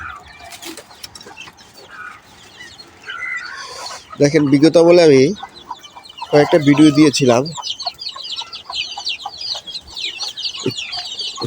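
Hens and chicks on an urban rooftop farm, including a black hen with a fresh brood of fourteen chicks, clucking and cackling loudly in bursts with constant high cheeping, as someone talks over them.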